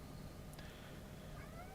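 A pet cat meows faintly indoors in a couple of brief, rising calls against a quiet background hiss, with no talking.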